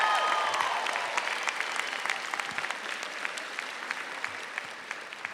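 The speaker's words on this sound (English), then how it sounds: "so give yourself another clap" Graduates at an undergraduate commencement in a concert hall break into sustained applause, a dense wash of many hands clapping that fades slightly toward the end, with no talking over it.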